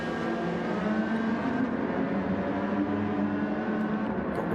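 A GR3 GT500 race car on the Daytona road course leaves the pits with a steady, moderately loud engine drone that holds a fairly even pitch throughout.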